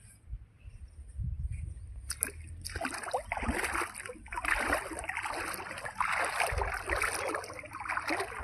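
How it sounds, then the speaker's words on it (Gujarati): Water of the Rupen river in Gujarat flows around someone standing in the middle of it, a steady close rushing and splashing that swells after a quieter opening and continues without a break. "રૂપેણ નદીનું પાણી કેવું આવી રહ્યું છે"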